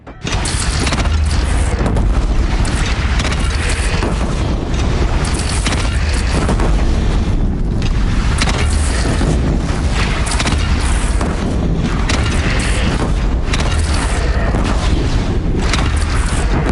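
Cannon fire and explosions in the video game Horizon Zero Dawn, a dense, continuous roar of booming blasts and crashing debris, loud and close, with deep rumbling throughout.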